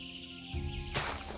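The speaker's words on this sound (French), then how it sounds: "On entend les grillons, tout ça." Crickets chirp in a Minecraft world, a constant high pulsing texture over layered ambient game tones, with a brief louder swell near the end.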